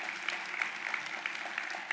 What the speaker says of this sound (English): Let's give them another round of applause if we can.